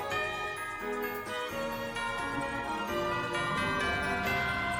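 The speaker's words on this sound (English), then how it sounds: "Again bells." Bright chiming bells ring through dense orchestral final boss music from a Kirby video game, sounding continuously and loudly with no voices over it.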